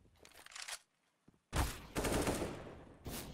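Gunfire shot through a stained-glass window in a French online shooter match: a short burst, a pause, then loud sustained automatic fire with rapid repeated shots, close and harsh, without talk.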